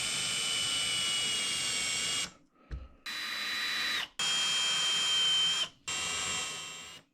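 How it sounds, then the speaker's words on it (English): A power drill drives stainless steel screws through a stainless steel plate into a simulator stand, loud high-pitched whining runs of one to two seconds each, separated by brief pauses, close and alone. "Now we're going to take our stainless steel screws and washers and we're going to attach that stainless steel plate to the bottom of our current simulator stand."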